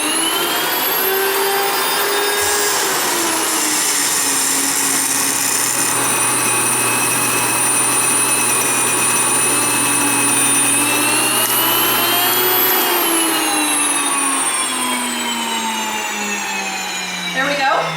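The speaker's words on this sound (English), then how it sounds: "You want to turn it on before you fill it, and right here is where you can choose how fine or coarse you want it" An electric grain mill set fine for bread flour grinds wheat with a loud, steady, high-pitched whine and roar that runs unbroken throughout, with a slight pitch shift near the end.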